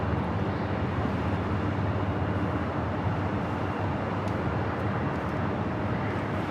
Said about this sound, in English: Condor arrived from Frankfurt in the beige beach livery.